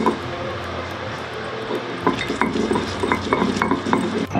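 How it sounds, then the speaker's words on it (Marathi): Soaked red chilies with cumin and salt are ground on a stone slab, a scraping, grinding rub that turns into quick rhythmic strokes with sharp clacks of stone on stone, close and fairly loud, alone. "हे बघा, पटापट असे वाटले जात आहेत आपली मिरची."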